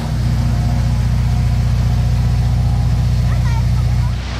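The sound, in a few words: supercar engine starting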